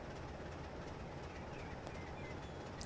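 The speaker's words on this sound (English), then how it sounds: "You can hear there's a freight train in the station, which is quite cool." A freight train sits in a large station in the Train Sim 2020 game on the Valley Corridor Route, giving a steady, dense rumble throughout with faint high squeals near the end.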